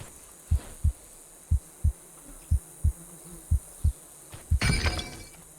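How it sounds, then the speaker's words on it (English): Low-health heartbeat cue from the Unity 2D Game Kit video game: a steady series of soft, deep lub-dub thumps in pairs, closing with a louder crash-like game sound at the end. "And also a heartbeat to give the player a low health signal."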